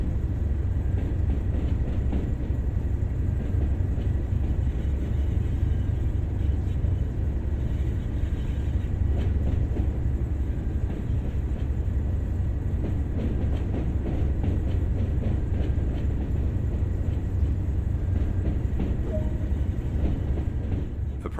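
A train from Train Sim World: Tees Valley Line runs steadily with a continuous low rumble and faint rail clatter, loud and constant without pause.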